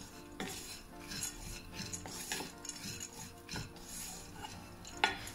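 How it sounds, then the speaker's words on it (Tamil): Metal utensil scraping and clinking against a pan as nuts are stirred while frying, with a faint sizzle underneath; no talking. "இனி கிளறி விடணும்."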